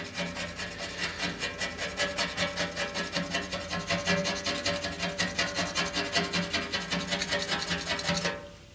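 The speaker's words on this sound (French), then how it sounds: "là, j'utilise une lame métallique, hein, parce que si j'utilise une lame en plastique, elle va fondre avec le produit" A metal blade scrapes hardened gel-like product off a car windshield in quick, steady, repeated strokes, close and continuous, with no talking, before stopping abruptly near the end.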